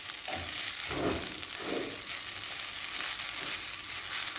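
Grated coconut dry-roasting in a pan over medium flame for coconut chutney powder, giving a continuous dry crackling sizzle with a few duller stirring scrapes near the start.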